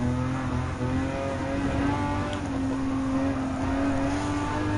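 A Ferrari 512BB engine in Gran Turismo 7 holds a steady, loud droning tone with a slowly rising pitch as it revs, continuous and close, with no talk.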